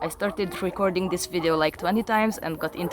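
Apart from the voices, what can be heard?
No distinct noise like a dog, phone or traffic.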